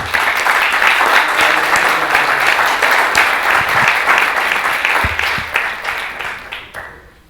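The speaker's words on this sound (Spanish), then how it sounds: "Pues les damos un aplauso." Audience applause at the close of a tourism round-table conference, a dense burst of clapping that holds steady, then thins and fades out near the end.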